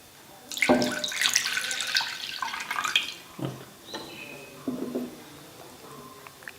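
Thick coconut milk poured into a bowl: a liquid gushing splash for a couple of seconds, then softer dribbles and drips, close and fairly quiet.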